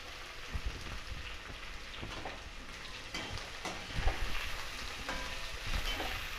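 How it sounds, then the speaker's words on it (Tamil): Onions sizzle and fry in hot oil for a fish curry, a steady crackling hiss with small pops and occasional stirring, close and continuous with no talk. "இப்போ வெங்காயம் போடுறாங்க."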